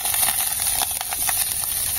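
Meat frying in hot oil in a pan on a camping stove outdoors, a loud steady sizzling hiss with scattered pops and crackles throughout, no voices.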